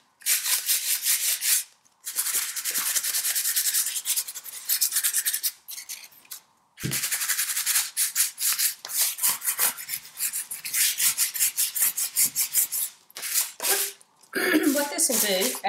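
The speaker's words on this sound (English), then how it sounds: "So now I'm going to take this 220 sandpaper, and we're going to take where all the little raised edges are" Sandpaper, 220 grit, lightly rubbing the raised edges of a chalk-painted glass liquor bottle, close, rapid scratchy strokes in repeated bursts with brief pauses between them.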